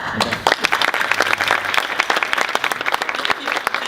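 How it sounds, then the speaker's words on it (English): An audience at a post-cupping Q&A applauds with dense, lively clapping that stays loud throughout, individual sharp claps standing out in the close crowd, with a faint voice briefly underneath early on. "A warm applause."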